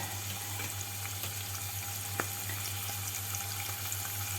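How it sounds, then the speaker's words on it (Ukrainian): Young lamb frying in oil makes a steady, soft sizzling hiss with an occasional small pop over a low constant hum. "Я його зараз буду відбирати і обсмажувати трошки на олії."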